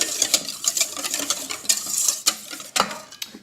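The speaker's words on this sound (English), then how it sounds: "Give that a stir." A spoon stirs cream and yogurt together in a bowl, giving a run of light scraping, clinking strokes at a steady uneven rhythm, close and moderately loud, with no talking.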